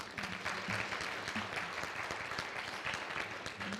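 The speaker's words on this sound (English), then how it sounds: "You can give them a round of applause." An audience at a Three Minute Thesis competition gives a round of applause for the event staff, scattered clapping that stays faint and steady for several seconds, with a few voices murmuring underneath.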